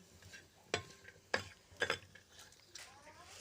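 A spoon scrapes and clinks against a pan while coconut roasts and is stirred, three or four distinct strokes with a faint background hiss, quiet and close.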